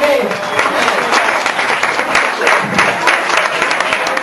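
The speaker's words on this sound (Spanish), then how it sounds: "¿Un aplauso o qué?" A small group claps close and loud after a card trick, the individual hand claps crisp and uneven, with voices chattering over the applause throughout.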